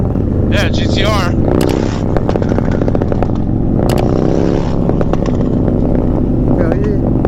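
A 131ci Stage 4 Harley Softail Low Rider S, a big V-twin, idles loud and close with a deep lumpy rumble, punctuated by sharp revs and crackling pops while people talk and exclaim over it.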